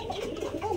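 Caged Giribaz pigeons at a bird sale coo in a brief, soft, throaty burble up close, with a faint murmur of background noise around them.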